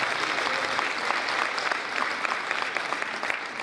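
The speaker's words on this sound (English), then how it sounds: "So please give her a round of applause." Audience claps at a Korean association New Year event in Tennessee, a dense, fairly distant round of applause with sharper individual claps poking through, sustained throughout.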